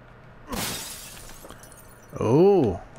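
Glass shattering in the video game Resident Evil Village: a sharp crash with a brief tinkling tail, followed by a louder warbling tonal sound, with some quiet low background noise.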